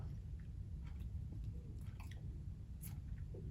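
Someone chews a lemon, with soft, wet squishing and mouth sounds close up in a quiet room, a few brief sharper bites standing out.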